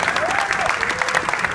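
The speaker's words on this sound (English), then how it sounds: "one more big round of applause for these amazing companies" Steady, dense applause from an audience at a startup demo day awards event, filling the space evenly with continuous clapping at a loud level and no talk over it.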